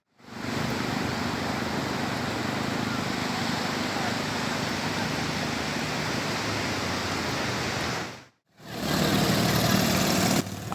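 Motor go-kart engines run steadily at a beach tourist site, a loud continuous mid-range drone with a brief dropout before resuming just as strong.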